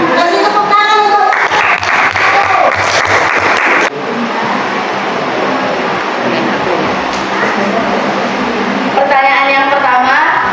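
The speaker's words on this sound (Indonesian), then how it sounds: "Kasih tepuk tangan untuk" A grade 10 economics class of high school students claps loudly and densely for several seconds in a classroom. Voices are heard just before and right after the burst.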